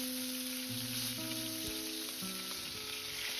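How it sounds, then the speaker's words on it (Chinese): Chicken wings pan-fry slowly over low heat, giving a soft, continuous oily sizzle with faint crackles and light tonal hum underneath, with no voices. "一定要像这样保持小火慢煎，煎出鸡翅表面多余的油脂"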